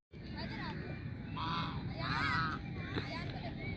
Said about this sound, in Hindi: डक पीछे उनके मामा बाबा हैं, आगे बेबीज हैं।